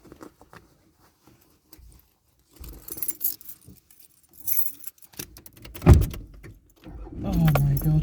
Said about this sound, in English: Here's my keys.